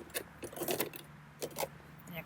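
A metal padlock clinks and jangles in short bursts as it is handled, close and quiet, with brief pauses between the rattles.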